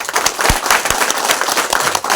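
An audience at a motivational seminar claps loudly together, a dense burst of applause that fills the room without pause.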